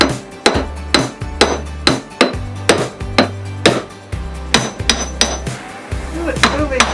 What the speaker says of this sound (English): Should we see what happens if I hit it with a hammer?